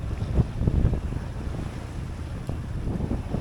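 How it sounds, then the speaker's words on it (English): A sailboat's auxiliary engine runs low and steady under strong wind buffeting and wash of waves at sea, with gusty rumble dominating throughout. "Chuck the engine on just for a bit better steerage."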